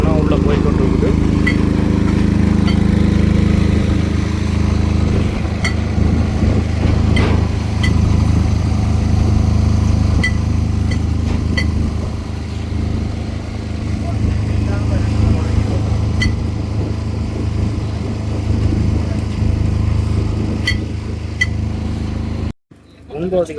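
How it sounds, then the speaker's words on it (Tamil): An army truck rolls onto a bridge, a steady low engine rumble that holds loud and near throughout with faint clanks, while someone talks over it in Tamil. "திருப்பி ட்ரக் ஒன்று பார்த்தீங்கன்னு சொன்னால் உள்ளே போய்கொண்டு இருக்குது"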